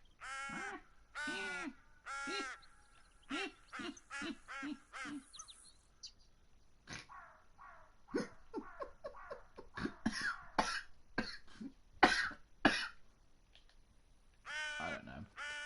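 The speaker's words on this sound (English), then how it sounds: "Darn crows keep laughing at me." Crows in the hunting video game The Hunter: Call of the Wild give a rapid series of harsh caws, followed by scattered sharper calls and clicks, then one more caw burst near the end.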